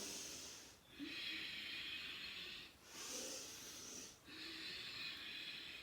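Slow, deep breathing during a stretching and breathing exercise: long airy inhales and exhales in alternating cycles, close and fairly soft, with short pauses between breaths.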